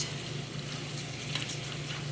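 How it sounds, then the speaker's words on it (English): Potatoes fry in butter in a skillet, giving a close, steady sizzle with a constant crackling hiss and no talking. "when I'm frying up my potatoes"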